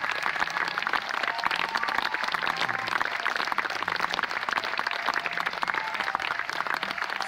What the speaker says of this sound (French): Merci mesdames et messieurs d'applaudir Jackie Wolfhart.